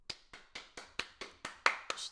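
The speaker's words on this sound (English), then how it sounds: "I have to clap." Two hands clap eight or nine times at a steady, brisk pace. The claps are close and crisp, with no talking over them.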